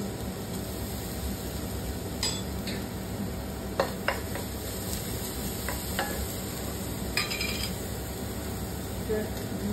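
Chopped ginger and garlic fry in hot oil for fried rice. A steady, close sizzle runs throughout, with scattered utensil scrapes and taps as the pan is stirred.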